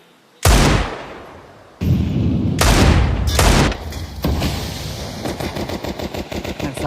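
Loud AK rifle fire in a Counter-Strike 2 match, opening with a heavy single blast, then more sharp bursts and ending in a rapid automatic volley of evenly spaced shots.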